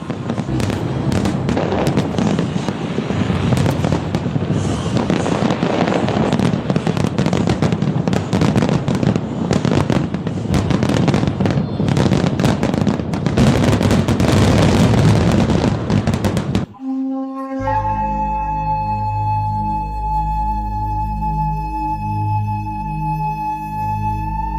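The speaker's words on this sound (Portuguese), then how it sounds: "Os fogos de artifício foram inventados na China e Hong Kong gosta de brilhar entre as estrelas." Fireworks exploding over Hong Kong, a dense rapid barrage of crackling bursts and booms for most of the stretch, then cutting away abruptly to sustained musical tones.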